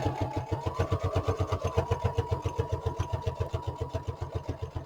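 A sewing machine runs steadily, stitching around the cover of a file folder lap book, its rapid even mechanical chatter continuous and close.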